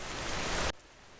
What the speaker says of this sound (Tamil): மழை வந்துருச்சு பாரு